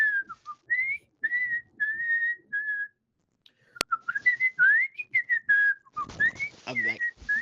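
A person whistles during a Fortnite session, producing a string of short, clear warbling tones and sliding phrases with gaps between them, close to the microphone, with a sharp click midway and some soft background noise toward the end.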